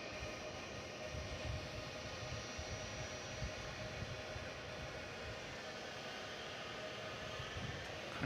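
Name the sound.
Boeing 757 jet airliner at DFW Airport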